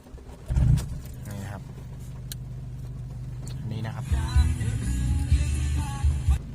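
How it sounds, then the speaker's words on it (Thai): Car engine cranking into life and then revving through an MCU Max electric throttle box, starting with a sharp burst, settling into a rumbling idle, then rising in repeated revs, with someone talking over it. "เดี๋ยวเราไปทำการติดเครื่องกันนะครับผม"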